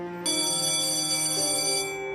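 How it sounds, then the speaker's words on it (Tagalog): An electronic school bell rings in an animated school scene, a sustained bright multi-tone chime that starts abruptly, holds steady and changes pitch partway through, fairly loud and heard alone without talk. "Tumunog na yung bell."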